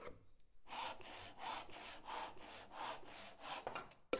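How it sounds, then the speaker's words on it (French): Wooden slats being hand-sawn to size for a small kitchenette build with an MDF base, heard as a steady back-and-forth rhythm of about seven close, rasping strokes with no talking. "Mesurez et indiquez 2 lattes de bois et coupez-les sur mesure."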